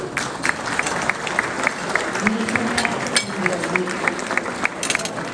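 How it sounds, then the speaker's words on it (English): Applause from guests at a gala dinner in a hotel ballroom, a steady crowd clapping with distinct individual claps standing out near, and a voice speaking briefly beneath the clapping. "And another applause, please."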